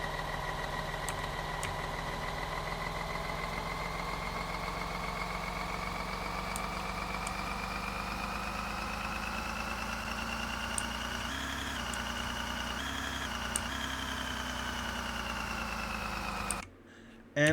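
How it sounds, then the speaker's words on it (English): A van engine idles in a PCG video game as a steady mid-low hum with a constant tone. It runs alone and unchanging for most of the stretch, then cuts off abruptly near the end. "I have another engine sound for the van, so I have two different sounds."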